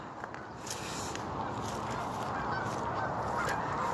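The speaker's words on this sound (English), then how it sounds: "present noise of geese, another waterfowl" Geese honk in a busy outdoor waterfowl scene, a steady stream of overlapping calls close by over constant background noise, with no talking.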